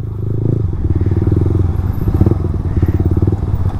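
A Royal Enfield Himalayan 411cc motorcycle being ridden, its single-cylinder engine thumping in a loud, steady low pulse with some rattle and clatter, close and continuous.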